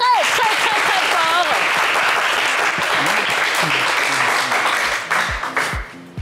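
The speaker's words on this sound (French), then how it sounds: "On va les applaudir" An audience claps loudly and steadily at a French TV show, the applause thinning toward the end as a voice speaks over it.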